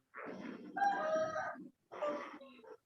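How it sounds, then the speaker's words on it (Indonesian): A rooster crows in two bursts, a long drawn-out call followed after a short pause by a shorter one, clear and fairly close with no talking. "Ayam."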